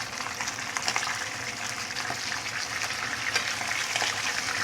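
Small pomfret pan-fries in hot oil with a continuous close hiss and fine crackle, the sizzle holding steady throughout.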